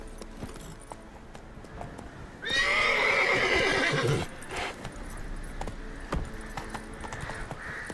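A horse whinnies loudly for about two seconds in The Witcher 3, its call rising and trembling, with soft hoofbeats and background ambience before and after.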